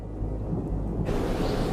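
Low rolling thunder from an extreme tropical island storm, a steady rumble that brightens into a louder, hissing wash partway through, with no voices.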